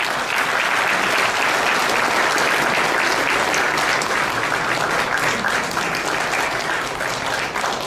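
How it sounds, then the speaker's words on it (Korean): A conference audience at the launch event of a national security group breaks into loud, sustained applause, dense clapping filling the hall to welcome the keynote speaker. "여러분 뜨거운 박수로 모시겠습니다."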